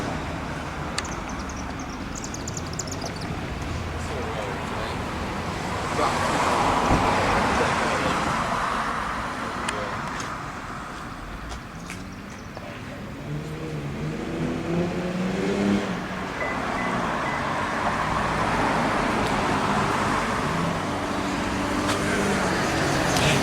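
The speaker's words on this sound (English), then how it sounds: "Lots of cars." Cars pass on the street outside a pub: a steady traffic hum with several vehicles swelling and fading by at moderate distance, and faint voices in the background.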